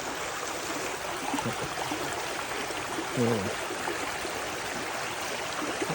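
Stream water rushes steadily under a natural overflow weir beside a clear creek near rice fields, a constant broadband wash with a brief faint gurgle partway through, no voices.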